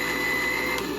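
A mixer grinder grinds coconut for a vegetable kurma, giving a loud, steady whirring whine close by that runs unbroken for about a second.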